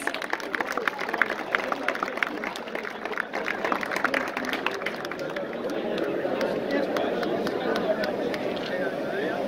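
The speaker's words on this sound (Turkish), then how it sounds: "Başkanımız ve başkan vekilimizi bir alkışlayabilir miyiz?" An audience at a closing ceremony for a spearfishing championship claps for the president and vice president, a steady wash of many hands that grows fuller and denser midway, with crowd chatter mixed underneath.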